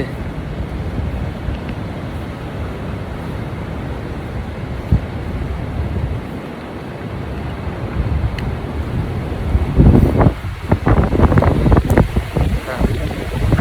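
Strong wind in London buffets the microphone in a steady roar, growing gustier toward the end, with a voice speaking faintly underneath.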